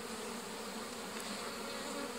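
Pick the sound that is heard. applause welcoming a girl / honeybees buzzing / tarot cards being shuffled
honeybees buzzing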